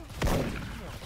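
Single sharp gunshot in the Special Force shooter game, a short punchy crack with a boomy tail, fairly quiet under a background hum.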